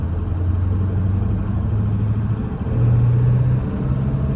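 Ford F250 OBS truck with a 7.3 engine pulls away and climbs through first, second and third gear, its steady low rumble dipping briefly at each shift before rising again, heard close from inside the cab.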